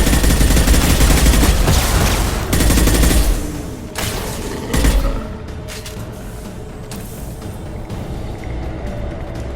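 Heavy gunfire in Mass Effect 2 aboard the Collector Ship, with loud, dense bursts of shots and booming impacts at the start, then easing into scattered cracks and a rumbling background.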